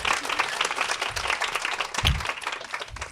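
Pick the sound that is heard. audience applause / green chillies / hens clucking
audience applause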